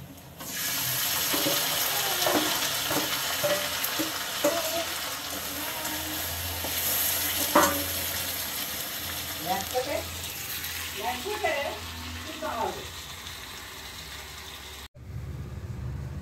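Chicken added to frying onion in a pan, giving a broad, steady hiss of sizzling that runs almost throughout, with occasional scrapes and bubbling pops close by before it cuts off near the end.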